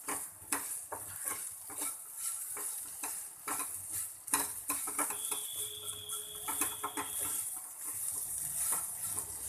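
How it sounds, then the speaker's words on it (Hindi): Dal with spices and amchur powder roasts in a pan while a spoon stirs and scrapes in repeated close taps, under a soft steady sizzle, with no talking. "और इनको मैं अच्छे से भून लूंगी इस दाल को।"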